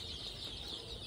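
Local chicks cheep in a soft, continuous chorus of thin, high peeps, quiet and fairly distant, with no talking.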